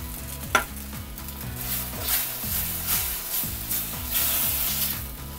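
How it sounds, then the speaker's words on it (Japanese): Butter and ayu fish sauce sizzle as they heat with pasta in a pan, a steady close-up frying hiss with stirring, some low tonal sound underneath and no talking. "バターにとろみがつくまで加熱していきます"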